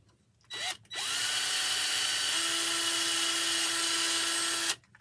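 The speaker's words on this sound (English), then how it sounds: "Make sure your fingers are nowhere near where you're drilling." A power drill bores through a craft tray, with a brief trial burst and then a loud, steady high-pitched whine lasting several seconds before it stops abruptly.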